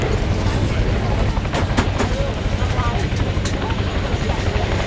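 RAF Chinook twin-rotor helicopter coming in for a running landing at an airshow, a loud continuous rotor roar and whine filling the air, with a commentator talking over it.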